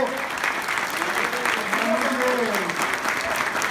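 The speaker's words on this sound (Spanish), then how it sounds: "despidámoslo con un fuerte aplauso si les gustó" An audience at an entrepreneurship week event in Mexico breaks into strong, continuous applause, a wash of overlapping claps with a voice and faint tonal sound beneath it.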